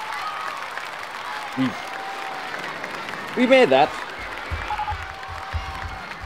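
Brief scattered clapping from a theme park crowd in RollerCoaster Tycoon, thin and fading quickly, with a voice talking over it.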